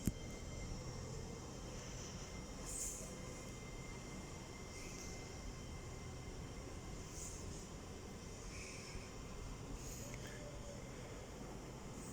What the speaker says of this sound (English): And there it goes, departing now, off to Edinburgh Waverley.